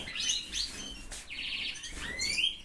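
A pet agate élégant male bird, satinette carrier, chirps with its female in quick, bright, high twittering phrases at close range.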